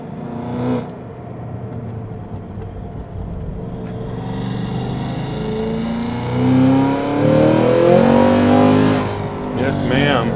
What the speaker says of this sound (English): I'll shut up and drive and let you guys hear the car